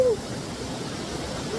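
Steady broadband rush of flowing river water near a waterfall in Lipa City, Batangas, continuous and fairly close, with no clear voices over it.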